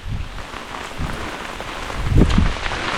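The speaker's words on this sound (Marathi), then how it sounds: "पाऊस भरपूर पडतोय तुफान एकदम" Heavy rain pours steadily through a dense Konkan forest in the Sahyadri hills during the monsoon, a loud, continuous hiss with low rumbling gusts swelling toward the end.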